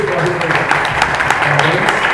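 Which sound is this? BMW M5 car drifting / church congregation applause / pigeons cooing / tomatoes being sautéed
church congregation applause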